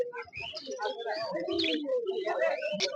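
Caged finches, conures and other birds at a busy bird market chirp and coo close by, mixed in with people talking.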